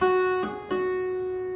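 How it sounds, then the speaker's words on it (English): One sustained acoustic guitar note changes pitch twice in quick succession as a finger hammers onto the string and pulls off, ringing clearly with no other sound. "I'll do a little hammer-on pull-off technique"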